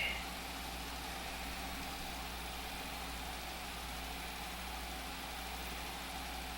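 A small tractor engine in Farming Simulator 25 runs at a steady low drone, with a constant rumbling hum, even and unchanging at moderate distance and low level.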